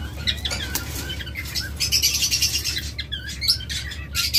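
Pairs of pet birds for sale, kept in a shop or market, flutter their wings and chirp busily. Bright overlapping tweets mix with rustling wing flaps, steady and close, with no one speaking.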